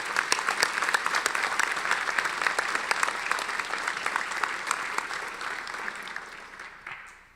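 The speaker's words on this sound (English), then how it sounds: "Graduates, join me in giving a hand to your family and friends." Law school graduates at a commencement ceremony give a long, even round of applause to their family and friends, dense and steady before tapering off at the end.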